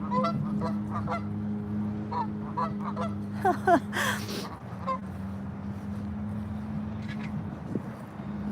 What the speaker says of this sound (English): Here also they have geese in this park